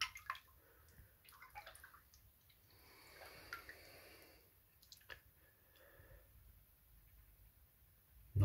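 Silicon additive being stirred into a hydroponic nutrient solution for an NFT system: faint sloshing, dripping and swirling water in a container, soft and close, with brief bursts of louder splashing and a quiet background.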